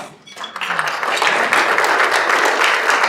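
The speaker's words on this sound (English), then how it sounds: "So give yourselves a round of applause." Audience applause from a room of attendees at a Rotary club meeting, building quickly into steady, dense clapping that holds loud and close for the rest of the moment.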